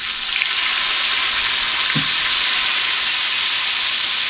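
Large shrimp seasoned with garlic, salt and pepper sizzling loudly on a DIY Skottle, a close, continuous bright hiss with one faint clink partway through.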